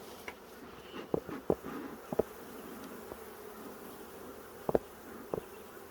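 Honey bees buzz in a steady low drone close by at an open hive during an inspection, with a few sharp knocks and taps breaking through now and then.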